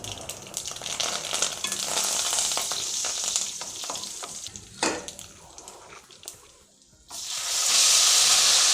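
Cashew nuts fry in hot oil in a pan for sevai, a close, steady sizzle with stirring scrapes; it briefly quietens, then surges into a loud, dense crackle as more goes into the pan.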